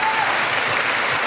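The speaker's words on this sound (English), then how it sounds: "Give him a round of applause." A crowd at a live podcast taping in Reno, Nevada breaks into applause, a loud, dense wash of clapping that carries evenly from start to finish.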